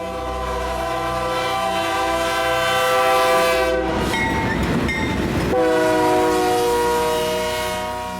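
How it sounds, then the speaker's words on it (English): A loud eastbound grain freight train on a Kansas shortline, led by EMD locomotives, rolls past up close, its horn sounding in sustained chords before and after a rumbling stretch of rattling wheels and cars. "another eastbound grain train would pass"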